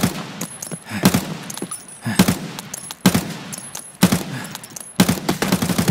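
Loud gunfire in a multiplayer shooter, with bursts of rapid automatic shots and several sharp single cracks spaced about a second apart, close and heavy throughout.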